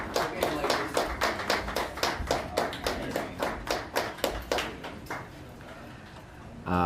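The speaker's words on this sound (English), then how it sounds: "there's some applause for the teams making their way off the ice" Spectators at a women's semifinal of a curling club playdown clap as the teams leave the ice, a small, rhythmic round of distinct hand claps close by that fades out near the end.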